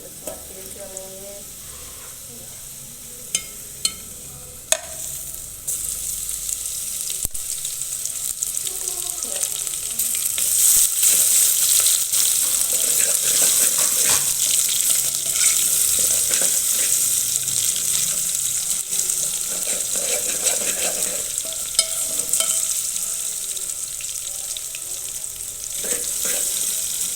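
Ginger garlic paste fries in a pot of hot oil while being stirred, giving a steady close sizzle with occasional scraping knocks of the spoon, continuous throughout.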